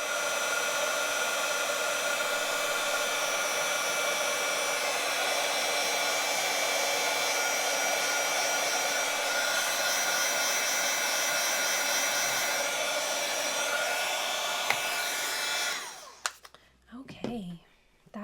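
A heat tool blows hot air to melt embossing powder, a loud steady whirring hiss for about fifteen seconds before it cuts off, then faint handling noises and a soft whisper.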